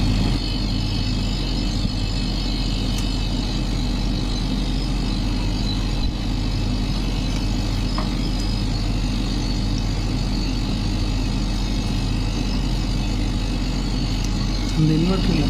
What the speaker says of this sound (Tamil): இப்போ கம்ப்ரஸர் சவுண்ட் வந்து டிஃப்ரெண்ட் ஆகும்போது வந்துட்டு இந்த பக்கம் ஸ்டோரேஜ் வந்து முடிய போகுதுன்னு அர்த்தம்